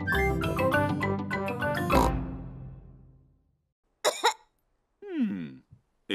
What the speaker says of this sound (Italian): quando è cominciata questa tosse?